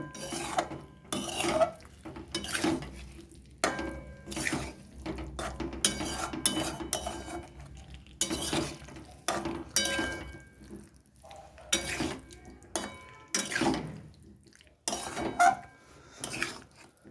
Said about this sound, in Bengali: ফুলকপিটা দিয়ে ভালো করে একটু ফুলকপিটার গায়ে মশলাটা একটু নেড়ে চেড়ে নেব।